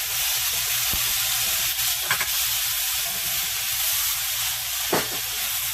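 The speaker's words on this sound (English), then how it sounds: "I'm going to add my red peppers." Red peppers frying in hot avocado oil for loaded fried rice, a steady loud sizzle with continuous hiss, a few brief stirring scrapes on the pan partway through.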